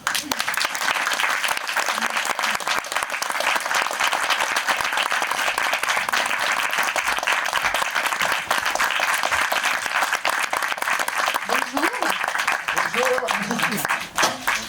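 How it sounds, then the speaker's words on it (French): A French audience at a documentary Q&A gives a thunderous ovation for Keanu Reeves, continuous loud clapping filling the whole stretch, with faint voices and whoops underneath near the end. "tonnerre d'applaudissements"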